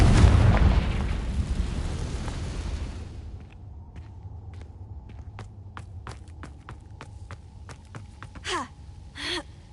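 A blasting curse erupts in Hogwarts Legacy with a loud, roaring explosion that fades over a few seconds and is followed by sparse footsteps and small crackling effects.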